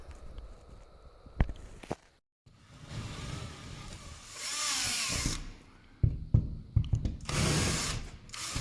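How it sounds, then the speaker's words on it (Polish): A power drill bores through a metal ceiling frame profile while mounting a Ubiquiti UniFi LR6 access point, whining in bursts between knocks and handling noises, fairly close. "No ale co, no możemy się chyba przez tak niego przewiercić."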